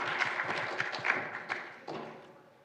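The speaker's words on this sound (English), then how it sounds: "So another applause for Marina." An audience applauds at a conference talk, a dense patter of clapping that fades away toward the end.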